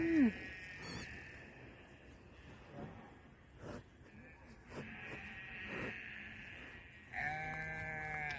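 Goats bleat across a field at dusk, with one sharp call at the start and another near the end, over a steady background of birdsong and other animal calls.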